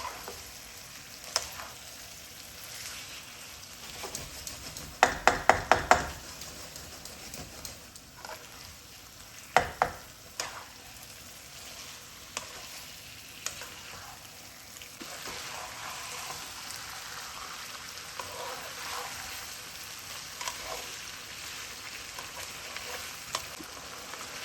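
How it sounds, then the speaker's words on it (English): Chicken korma with spices being stirred in hot oil, a steady low sizzle with scraping strokes and a short burst of sharp clatters near the start, then continuous quiet frying throughout. "we're just going to give it a good mix"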